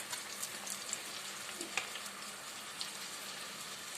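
Sliced onion frying in a pan, a soft steady sizzle with light stirring clicks and a scrape or two, fairly quiet and close, no voices.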